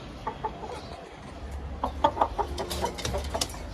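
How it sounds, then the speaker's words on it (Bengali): Chickens at a family home cluck in short, scattered bursts, moderately close and somewhat faint over a low background hum. "মুরগি,"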